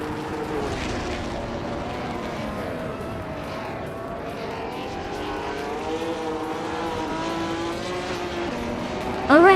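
Race cars in a racing video game, a steady, close droning of engines whose pitch rises and dips as they accelerate and brake, ending with a sharp, rising whine.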